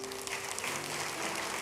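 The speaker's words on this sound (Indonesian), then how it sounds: "Berikan tepuk tangan untuk Tuhan." Church congregation applauding during an Easter service, steady full-room clapping throughout, moderately loud and close, with faint crowd murmur underneath.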